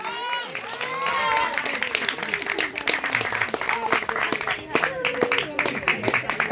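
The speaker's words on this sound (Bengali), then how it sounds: "হাততালি কোথায়?" A small group claps continuously in quick, uneven bursts at an anniversary celebration, close by, with people cheering and talking throughout.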